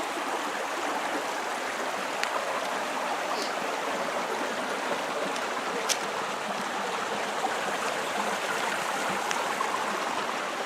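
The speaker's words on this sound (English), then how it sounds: "It's just running water." Water runs steadily through open channels along both sides of a road in a Japanese town, a constant close rushing wash that holds for the whole stretch without pause.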